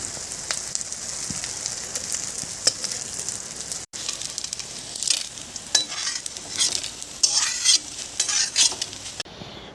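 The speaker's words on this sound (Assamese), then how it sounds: "এতিয়া মই তেলত গমখিনি দি দিছোঁ" Wheat grains fry in hot oil for wheat laddu, a dense close hiss and crackle with stirring scrapes, briefly cut off near the middle and returning louder, with no talking.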